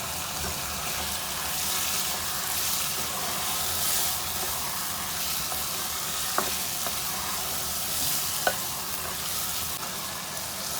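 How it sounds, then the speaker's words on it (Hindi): Beef with onions, tomatoes and spices stir-fried in a karahi for karahi gosht, a steady, fairly loud sizzle with stirring scrapes and a couple of sharp clinks of the spoon against the pan. "एक से 2 मिनट हमने तमाम मसालों को गोश्त को भून लिया है।"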